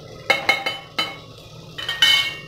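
Stirring masala and vegetables in a biryani pot over a medium flame: a series of clinks and scrapes as a metal spoon strikes and drags against the pot, with irregular strokes close up and no talking.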